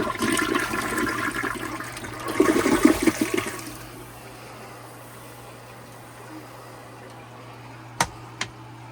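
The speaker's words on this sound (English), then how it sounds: "It's the very first flush." A newly installed toilet in an off-grid cabin flushes for the first time, a surging gush of water for about four seconds that drains away to quiet, then two sharp knocks.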